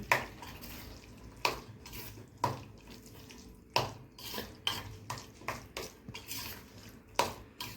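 Roasted eggplant bharta with a pinch of asafoetida stirred and mixed in a pan, giving repeated scraping and clinking strokes of a spoon against metal at an irregular rhythm, fairly close.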